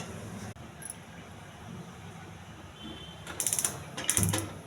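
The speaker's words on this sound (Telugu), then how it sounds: "స్టవ్ వెలిగించి గిన్నె పెట్టుకోవాలి." A gas stove's igniter clicks in two quick bursts of rapid ratcheting ticks, close and fairly quiet over a low background hum, as a pot of meal maker is set up to steam.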